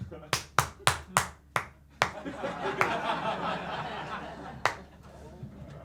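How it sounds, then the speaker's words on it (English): A lone person claps in a village pub at a stand-up comedy show: about six crisp, evenly spaced claps that stop, followed by scattered audience laughter and murmuring. "when you clap and you think everyone else is going to join in, but no one does, so you peter out at the end"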